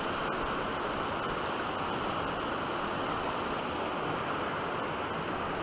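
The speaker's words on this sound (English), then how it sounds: "Look at them rapids." Steady, loud rush of churning whitewater, a dense broadband roar that never lets up, with no voices.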